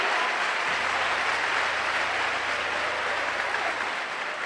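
Steady, moderately distant applause from a church congregation at a women's worship service, a continuous wash of many hands clapping without a break.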